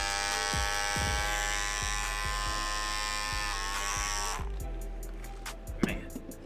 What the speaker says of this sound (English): so y'all can hear the cordless master